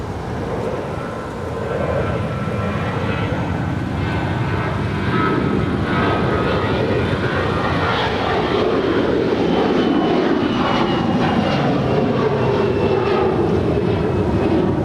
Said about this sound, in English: Arnav Docker, runway 25 right, cleared for takeoff, Sky 5271.